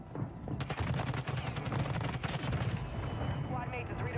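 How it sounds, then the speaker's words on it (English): A video game mortar strike with rapid, dense bursts of explosions and gunfire, crackling booms layered over one another, with voices talking underneath. "Mortar strike on the way."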